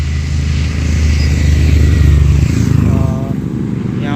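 Motorcycles pass on a mountain road in the hills on the way to Rishikesh, engines loud and close throughout, fading toward the end as a faint horn-like tone rises.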